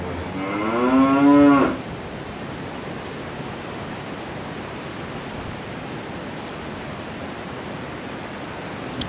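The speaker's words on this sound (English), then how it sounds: "As you can see, there's always cows around here." A cow moos once, loud and drawn out, near a clifftop fence on Norfolk Island, lasting under two seconds before steady wind or surf noise carries on alone.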